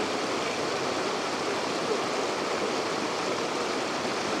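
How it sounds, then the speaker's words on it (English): A small waterfall on a Newberry Volcano trail gives a steady, broad rushing roar, constant and unbroken, heard from a short distance with no voices. "oh, look at that little waterfall up there"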